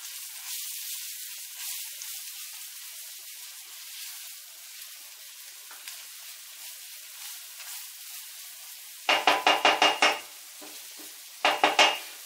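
Fried onion and flour cook in a pan for stewed artichokes, a soft continuous sizzle with light stirring, then near the end two bursts of sharp rapid metal scraping and clinks against the pan.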